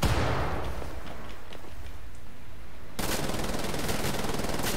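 Heavy mounted gun firing in the shooter game Wolfenstein: The New Order, a loud, dense rattling burst with a booming start, then a brief lull and renewed rapid automatic fire.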